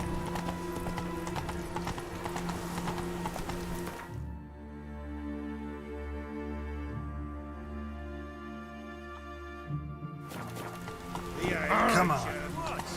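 Hoofbeats of the horse Roach galloping in The Witcher 3 video game, a steady clip-clop rhythm up close, with a whinny and game music, and people talking over it.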